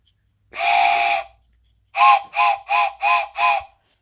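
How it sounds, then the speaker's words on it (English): A train whistle blown indoors at close range: one long steady blast of about a second, a pause, then five short rhythmic toots in quick succession, loud and clear with no talking. "Let me blow that train whistle for you guys."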